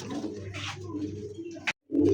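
A white Danish pigeon coos in a few low rolling phrases close by, broken by a brief sharp noise and a moment of silence before the cooing resumes.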